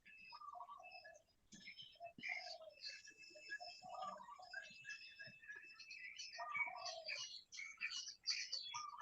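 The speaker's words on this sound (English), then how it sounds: "can hear some of my birds" Pet birds chirp and tweet softly indoors in quick, scattered bursts of high calls, faint and close, with no talking over them.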